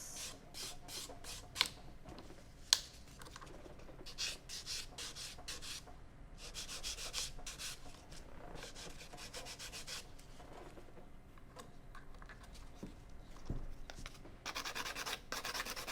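Acrylic nails are buffed with a filer buffer, giving steady close rubbing and sanding strokes in quick bursts, with occasional sharp scrapes and a short pause midway.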